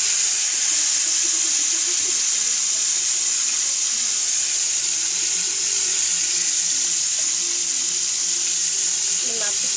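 Rohu fish pieces frying in oil produce a loud, constant hissing sizzle that runs unbroken throughout, with a faint voice murmuring underneath.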